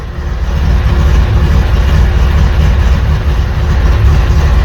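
A newly installed motor in a vehicle called Blue idles steadily on a temporary tune, a loud, continuous low rumble that holds even and unbroken throughout.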